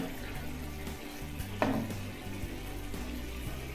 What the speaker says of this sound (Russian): Помешали.